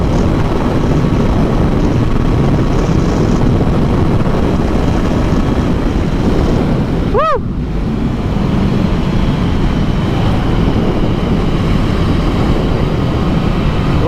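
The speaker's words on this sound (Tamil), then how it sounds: "நான் சொன்ன மாதிரி விண்டு அதிகமாக இருக்கு" Strong wind roaring past a Jawa 42 motorcycle during a high-speed top-speed run, a loud, constant rushing buffet with engine drone underneath and one brief rising tone partway through.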